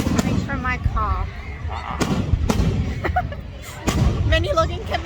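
Fireworks bang out near a Christmas market, sharp irregular booms mixed with crowd voices and talking nearby.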